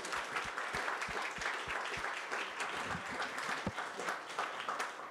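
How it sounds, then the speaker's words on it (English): A crowd applauds steadily throughout, a dense wash of many hands clapping, with a few sharper individual claps standing out early on. "let's start with a nice round of applause"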